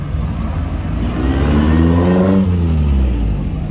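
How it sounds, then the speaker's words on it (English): A hand-built car based on an Austin Healey 3000, its body built by the owner, drives onto the field at the 2021 AACA Hershey car show. The engine note swells loudly as it passes close by, then falls away. "That's based off of an Austin Healey 3000."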